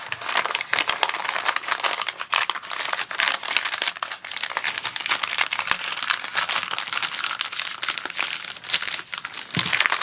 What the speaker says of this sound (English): the first paper bag and open it up just like this.